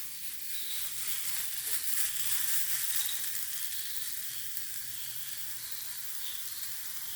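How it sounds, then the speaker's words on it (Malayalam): Continuous hissing sizzle of ground masala paste in a hot pan, moderately loud and even throughout, with faint stirring underneath. "നമുക്ക് ഇതിനകത്തോട്ട് നമ്മൾ അരച്ച് അരപ്പിട്ട് കൊടുക്കാം കേട്ടോ"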